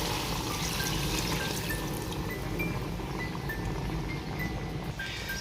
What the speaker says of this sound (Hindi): यखनी डाल दी है जी।